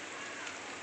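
Steady rain falls on surfaces outdoors during a stormy day in Bhubaneswar, a dense, even patter heard close and alone for under a second.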